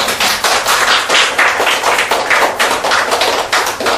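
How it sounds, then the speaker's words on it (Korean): An audience at an English-education lecture gives the speaker a round of applause, many pairs of hands clapping in a brisk, close, uneven patter. "강의해주신 강사님께 다시 한번 박수 좀"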